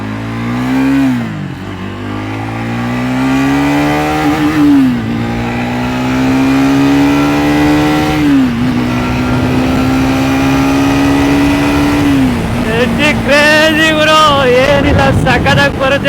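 A Triumph Speed 400 motorcycle pulls away under open throttle, its engine note rising through several gear changes with brief dips between, loud and close, with wind buffeting near the end.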